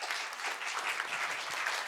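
Audience at an alumni sustainability lecture giving warm applause, a brief, soft, even patter of many hands clapping, fairly distant.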